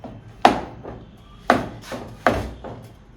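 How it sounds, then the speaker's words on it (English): Colatta chocolate is chopped with a knife on a chopping board, four or five sharp thuds spaced unevenly a second or less apart, close and clear with no talking. "we'll be chopping this small because we're going to be melting it"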